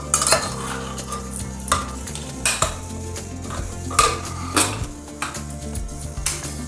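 A spoon stirs beetroot pachadi in a pot after salt goes in, a Kerala sadhya dish, giving scraping, clinking strokes at an uneven pace over a soft sizzle, with background music underneath.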